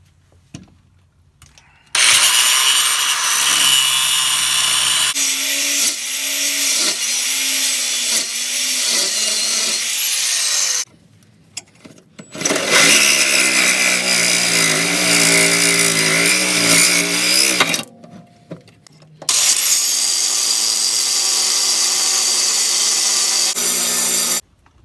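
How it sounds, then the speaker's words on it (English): Power tool cutting through a bolt on a Ford Focus rear subframe during control arm replacement, loud harsh grinding in three long bursts with brief pauses between, no talking. "So I'm going to go ahead and cut this bolt out because that's the only way I see to be able to change this."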